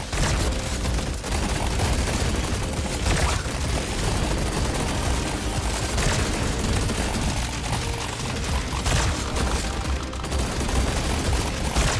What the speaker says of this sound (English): We can be firing the auto cannon non-stop almost.